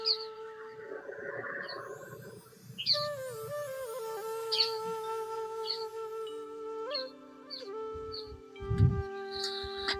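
A sparrow nesting in a small hanging plant chirps and whistles in short, bright notes and sustained tones, close and clear, with a brief rustle near the end.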